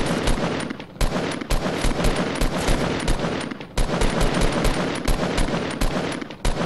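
Rapid bursts of automatic gunfire in Fortnite Battle Royale, loud and close, come in long sustained volleys broken by short pauses.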